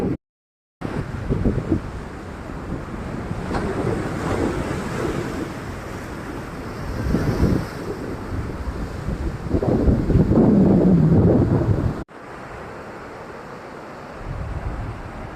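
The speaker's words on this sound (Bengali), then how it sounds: "এটাই তাজপুরের বিচ।" Surf and wind roar steadily at Tajpur beach, a broad continuous wash with swelling peaks as waves break, briefly cut near the end before resuming softer.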